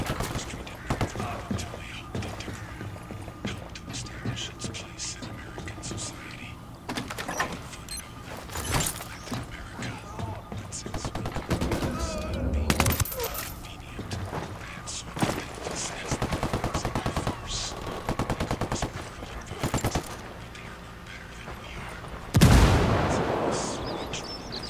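Intermittent bursts of automatic and single-shot gunfire crack through a firefight between rebels and cartel in Ghost Recon: Wildlands, near and distant shots mixed, with a loud blast near the end and occasional voices underneath.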